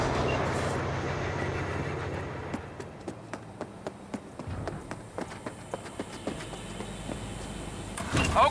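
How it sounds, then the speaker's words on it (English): Train leaving in Cyberpunk 2077, a low rumbling start that gives way to a steady, regular clacking rhythm of wheels on track, moderately loud and without talk. "All right, the train's leaving."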